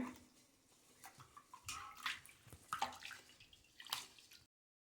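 Water sloshes and splashes in a bowl as rice is swirled and rinsed by hand, with small drips and gurgles, close and fairly quiet.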